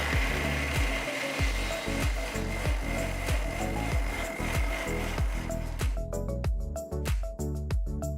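A mixer grinder purees roughly chopped medium tomatoes in its jar, giving a loud, steady motor whir with rhythmic pulsing thumps and a brief change in tone near the end.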